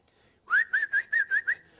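A person whistles six short, even pulses on a single steady note, loud and close, starting after a brief silence.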